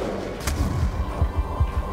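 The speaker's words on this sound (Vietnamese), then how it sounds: "Barret bắn đã vậy Barret bắn được nha" A Barrett sniper rifle fires in a Panama campaign mission of Call of Duty: Black Ops 2: one sharp, loud report followed by a string of low, rumbling thumps.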